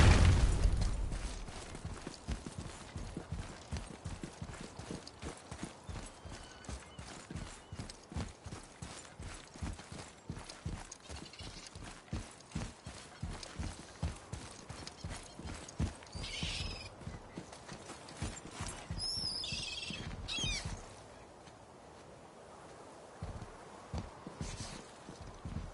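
Horse hooves clip-clopping in a steady walking rhythm in the video game God of War, fairly close, with a brief whinny and soft rustling partway through.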